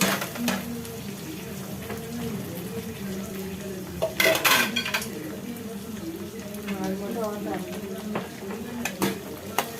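A spoon scrapes and clinks against a pan as chopped green chillies and vegetables are stirred, with a soft sizzle and occasional louder clatters.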